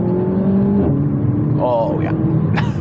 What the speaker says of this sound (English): I wonder if I can plant my foot in second and not lose traction